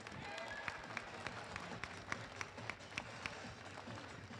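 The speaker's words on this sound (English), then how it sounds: "can we get a huge round of applause for both of these teams who have worked really hard to get to this point?" Scattered, fairly faint clapping from an audience at a FIRST Tech Challenge robotics qualifier, individual claps standing out over a low room murmur.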